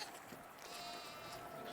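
Goats bleat faintly at a distance, a couple of wavering cries over a low, steady outdoor background.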